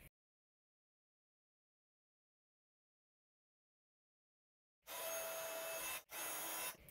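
A heat embossing tool blows hot air over embossing powder on cardstock, starting abruptly as a loud, steady broadband whoosh for about two seconds, with a brief cutout before it resumes. No one speaks.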